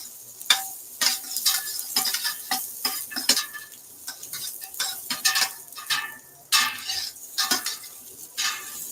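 Garlic fries in a hot pan for birria tacos, a soft sizzle under repeated sharp scrapes and clinks of a utensil stirring against the pan, irregular and close.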